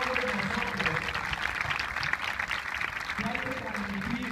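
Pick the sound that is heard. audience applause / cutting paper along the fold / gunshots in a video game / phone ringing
audience applause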